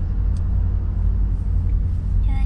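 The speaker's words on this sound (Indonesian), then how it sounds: "mobil jemput Jihan" A car engine idles steadily while waiting at school pickup, a close, constant low rumble with no break, and faint brief chirps surfacing near the end.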